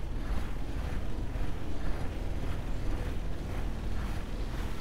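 A vacuum tool in the farming game Lightyear Frontier runs continuously with a loud, rushing, airy roar that pulses slightly but never stops across the clip.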